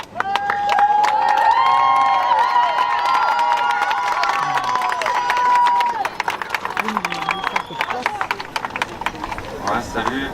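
A crowd cheers and applauds loudly, with shouting over the clapping, then the noise thins to scattered claps and voices.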